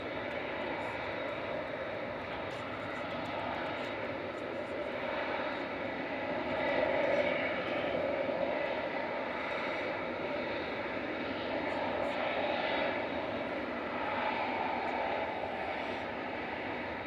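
An airplane taxiing at Manchester Airport, heard as a steady, continuous engine roar with a broad rushing tone that swells slightly midway and holds level throughout.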